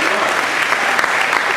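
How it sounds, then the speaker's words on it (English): A graduation audience gives a short burst of dense, close applause for the event's helpers, steady clapping throughout with no voices over it. "give you guys a round of applause for all that you did"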